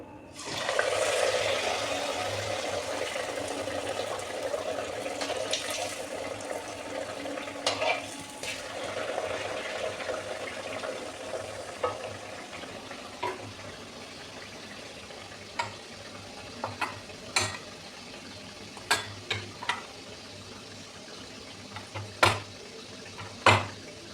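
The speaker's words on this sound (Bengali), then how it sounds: "তেলটা গরম হয়ে গেছে, আমি এবারে আস্তে আস্তে করে এগুলো ছেড়ে দেব।" Hot oil hisses loudly as coated chicken patties go in, then settles into a steady frying sizzle with scattered pops and spatula clicks toward the end.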